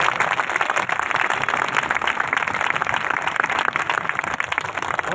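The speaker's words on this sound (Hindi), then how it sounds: "तालियां बजाइए नरेश कुमार शास्त्री जी के लिए।" Dense, continuous audience applause at a protest movement gathering, loud and sustained throughout with no breaks and no talking over it.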